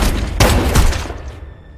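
A burst of gunfire from a film shootout between an undercover agent and a colonel, a dense, loud volley of overlapping shots that quickly tails off.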